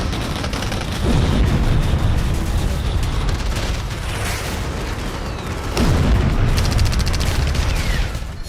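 K9 Vajra self-propelled artillery guns deployed along the LAC in Ladakh, firing in two heavy booming blasts with deep rumbling roars that stay loud and close, each swelling sharply and then trailing off into a long reverberant wash.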